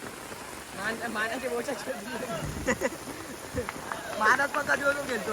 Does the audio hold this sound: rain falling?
yes